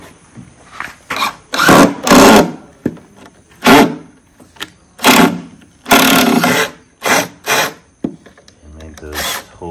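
A power drill drives screws into a worm tower in repeated loud bursts of a few seconds each, close by, separated by short pauses.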